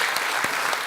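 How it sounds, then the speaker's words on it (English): An audience at a county board of education meeting gives a short round of applause for coaches and players, with dense clapping close and steady throughout. "Let's give all of these coaches and all of these players one more round of applause."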